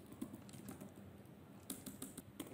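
Typing on a computer keyboard, a steady run of quiet key clicks with a few sharper strokes near the end, close by and alone with a low background hum.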